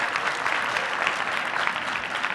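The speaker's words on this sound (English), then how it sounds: "Big round of applause again for our panelists" An audience at a live conference session applauds its panelists, a steady, even wash of clapping from a crowd, continuous and moderately distant, with no pauses.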